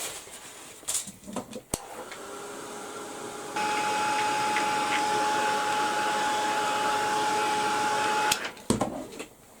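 A hair dryer dries a handmade silhouette card, switching on with a click into a steady rushing whoosh for about five seconds before shutting off, with faint handling noises around it.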